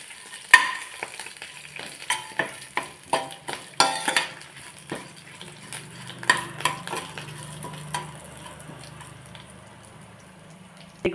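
Curry leaves, mustard seeds, cumin, dried red chilies and green chilies crackle in hot oil for tempering, a soft sizzle broken by repeated close clinks and scrapes of a spoon stirring the pan.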